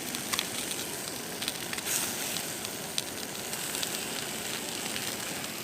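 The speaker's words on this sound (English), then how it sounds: "I'm going to chuck my steak on because I need a frying pan for my eggs" Steak sizzling and crackling steadily in a frying pan over a campfire at a wild camp, a dense continuous hiss close by with small pops throughout.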